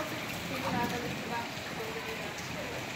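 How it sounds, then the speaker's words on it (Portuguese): Heavy hailstorm with hailstones and rain pounding down close by near a house gutter, a continuous dense hiss and patter with no break, and a faint voice low in the mix. "Realmente choveu muito forte, chuva de pedra aqui, olha."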